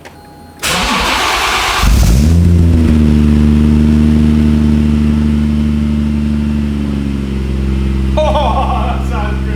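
A BMW B58 straight-six swapped into an E46 cold-starts with a loud crank and catch, flaring briefly before settling into a steady, smooth idle, close to the microphone.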